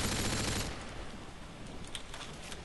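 Automatic gunfire in Call of Duty Modern Warfare 2, a dense sustained burst that is loudest at the start and then settles into continuous rattling shots.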